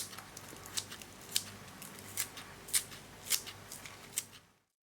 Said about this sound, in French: Alors avec le ciseau, je vais venir donc couper des petits morceaux.